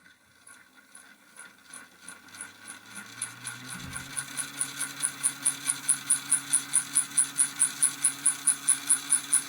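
A model train locomotive on a bench test rig runs in first gear, giving a steady mechanical ticking and whirring that starts soft and grows louder and more regular, a rapid even clicking over a low motor hum.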